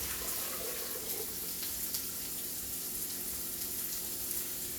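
A steady stream of boiling water pours and splashes into a cooking pot of gumbo base, a soft continuous hiss with faint crackling, fairly quiet and unbroken.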